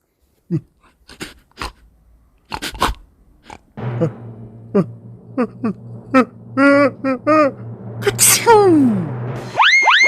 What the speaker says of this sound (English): The bear, tickled by the mouse's whiskers, gave an enormous sneeze.